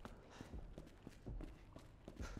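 Soft, irregular footsteps thud in a Resident Evil game, a handful of faint muffled steps spread over a couple of seconds against low background noise.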